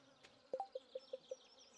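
Buzzing bees in Stardew Valley, a quick run of five or six short, evenly spaced buzzy pulses, faint and close, in an otherwise quiet game scene.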